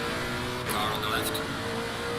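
Race car engine drone in a sim endurance race at Imola, a steady continuous whine with another car briefly passing close by, under a faint voice.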